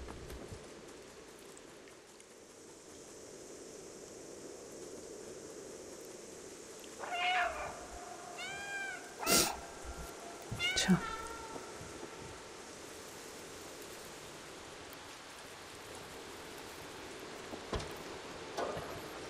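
A cat in the video game Stray meows a few times over steady rain, with brief sharp clanks and thuds around the meows against a faint background hiss.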